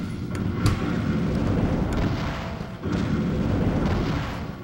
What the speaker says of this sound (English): Missile launcher!